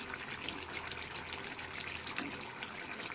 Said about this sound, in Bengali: জি ভাই জল আসতেছে